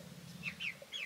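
Chickens being moved into a new coop at a barndominium give a few faint, high chirping clucks over a low steady hum, spaced irregularly across a short moment.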